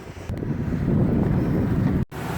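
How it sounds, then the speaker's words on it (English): Strong wind roars across a boat leaving a marina on open water, a loud continuous rush with heavy low buffeting that cuts out abruptly near the end. "It's kind of super windy."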